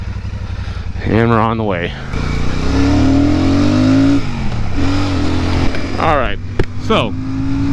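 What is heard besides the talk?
Royal Enfield Super Meteor 650 motorcycle accelerating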